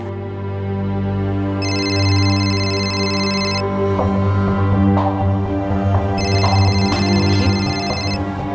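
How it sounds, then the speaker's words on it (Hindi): A mobile phone rings in two bursts of a bright repeating electronic ringtone over a steady background hum, with thumps and rustles between the rings. "माँ, ये फोन किसका बज रहा है?"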